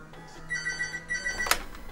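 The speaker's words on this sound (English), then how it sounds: "Get your phone, Sophie" A telephone rings with a sustained electronic trill lasting about a second, moderately loud indoors, ending in a sharp clack.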